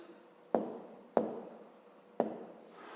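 Three sharp pen or chalk taps with short scratching strokes, evenly spaced about half a second apart, as pupils' numbers are written down for a 5th-grade maths exercise; close and clear, no talk.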